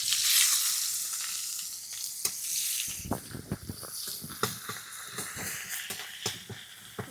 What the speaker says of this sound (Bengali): এবার আমি দিয়ে দেব পেঁয়াজ কুচি।